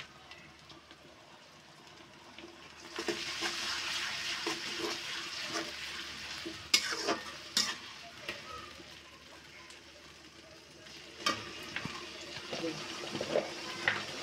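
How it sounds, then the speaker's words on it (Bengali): Onion paste with ginger and garlic paste frying in a pan for a chicken bhuna with tomato gives a steady, close hiss that starts after a quiet opening few seconds, broken by sharp scrapes and clicks of stirring. "বন্ধুরা দেখুন পেস্ট আমি লাল লাল করে নেই, হালকা ভেজে নিচ্ছি।"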